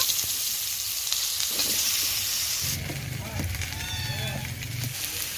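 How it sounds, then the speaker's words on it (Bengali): Chandramukhi potatoes fry in hot oil with a steady close hiss that shifts partway through into a busier bubbling sizzle, with some clatter of handling. "এবার এই তেলের মধ্যে ভালো করে ভেজে নেব"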